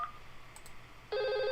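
An outgoing phone call in a network QoS simulation setup rings back, a steady electronic telephone ring tone starting partway through after a quiet line with faint chirps, loud and sustained to the end.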